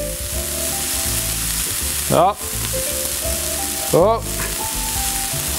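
A cheeseburger patty sizzles loudly on a hot grill with constant close frying crackle, broken twice by brief scraping stirs, and a voice briefly calls out over it.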